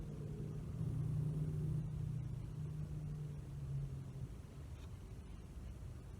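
Several race cars run close together down a hill track, a steady loud engine rumble that swells early and holds throughout, with no talking.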